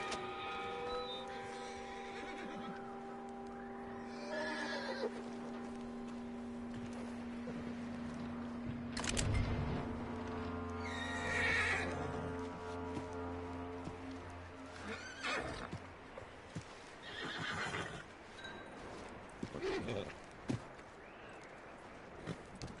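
A horse in a PS4 open-world Western game whinnies loudly, with clip-clopping hooves and a sustained musical tone under it across the whole stretch.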